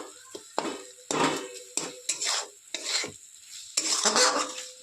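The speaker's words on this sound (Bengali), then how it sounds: "এইভাবে একটু খুন্তি দিয়ে চেপে দেবো" A spatula presses and stirs a tomato and mushroom masala in a pan, with a run of short scraping, clinking strokes and a soft sizzle between them, close and fairly quiet.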